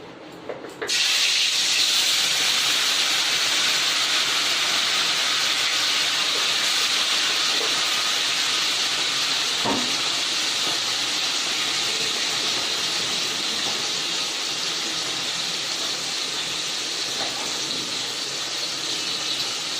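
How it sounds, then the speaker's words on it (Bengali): Fish fry in hot oil, starting with a sudden hiss as the pieces go in and then holding a loud, steady, close sizzle for about twenty seconds, with a faint clink midway and no talk. "তেল গরম হয়ে গেছে, মাছগুলো দেবো চলো।"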